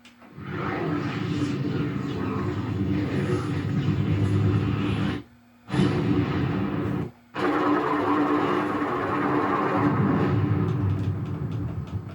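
A 2007 Xbox 360 console with a blades dashboard hums and whirs loudly up close in a steady fan-like roar, cutting out briefly twice before resuming, with a faint voice now and then.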